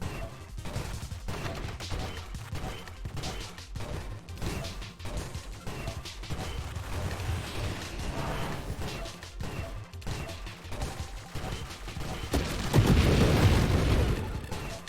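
Explosions in the asteroid-shooting roguelite game Nova Drift crackle and burst repeatedly in quick irregular succession, building to a louder, denser blast cluster near the end, with no talking.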